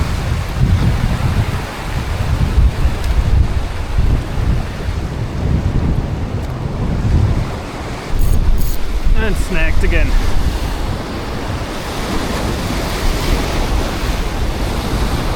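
Ocean surf breaks along the rocky shore beneath a huge cliff, a continuous loud churning wash mixed with gusting wind noise on the microphone, while someone speaks briefly.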